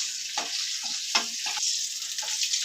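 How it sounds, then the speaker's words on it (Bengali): Egg frying in a pan of hot oil, a steady bright sizzle with a few soft stirring scrapes over its short span. "ডিমটা আমি ভেজে নিচ্ছি"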